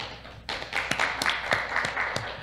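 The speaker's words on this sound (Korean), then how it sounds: "자, 인사하시고 이 박수를 한번 쳐야 되겠습니다." Scattered audience applause at the Chuncheon International Water Forum 2022 session on dams and regional futures: a burst of separate, sharp claps that starts suddenly and keeps a loose, uneven rhythm for a couple of seconds in a room.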